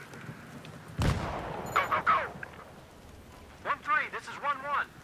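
Flashbang grenades go off during a breach in Battlefield 3, one sharp loud bang followed by a couple of smaller bursts, while soldiers' radio voices talk over the action.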